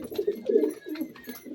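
Domestic pigeons kept at home coo close by in soft, throaty, rolling phrases, several overlapping calls repeating in a steady rhythm with no talk.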